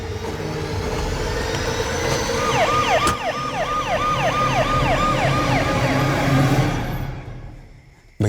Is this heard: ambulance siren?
yes